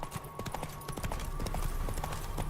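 Hooves of the horse Roach in The Witcher 3 clatter in a quick, steady clip-clop gallop, close and fairly loud over a low ambient hum, with no speech.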